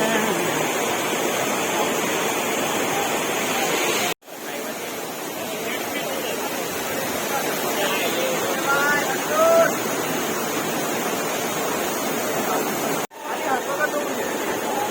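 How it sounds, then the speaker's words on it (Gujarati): Raja Rani waterfall roars in a steady, loud, broadband rush that fills the whole scene, with faint voices of visitors underneath and two brief cuts in the sound. "મસ્ત મજાનો રાજા રાણી ધોધ છે"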